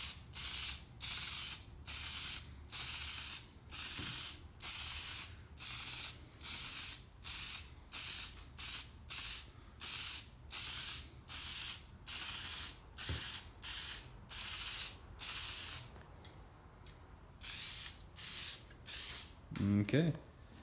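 Plasti Dip sprays from an aerosol can onto a Camaro spoiler in about twenty short, evenly spaced hissing bursts, close and fairly quiet, with a brief clatter and a faint voice near the end.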